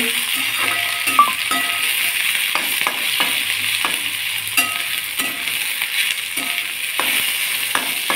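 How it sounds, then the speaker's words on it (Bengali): Chopped vegetables, including carrot, capsicum and green chilli, sizzle steadily in a hot kadai (wok) with salt, under scattered clicks and scrapes of stirring throughout, and no talking. "দেখো সব সবজিগুলো এবার ভাজছি কড়াইয়ের মধ্যে।"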